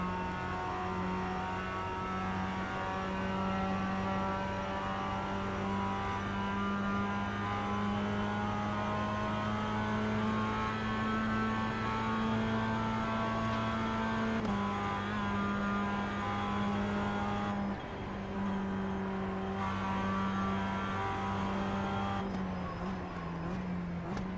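Several BMW race car engines in the racing game iRacing drone steadily at high revs, a sustained tonal roar that shifts pitch slightly with gear changes, loud and close with no talk.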